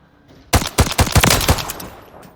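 G36 marksman rifle in Call of Duty Modern Warfare III fires a quick string of about eight loud, close shots in rapid rhythm, then a fading tail, with no talk.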